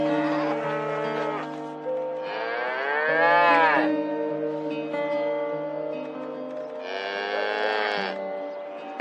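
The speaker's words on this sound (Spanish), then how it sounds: "Reconozco sus mugidos." A cow in labor moos repeatedly in long, loud, drawn-out calls that rise and fall, heard close with short pauses between them.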